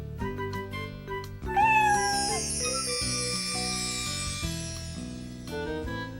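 A kitten meows in a French Caillou cartoon, a clear close mew over light tinkling cartoon music, followed by softer musical phrases.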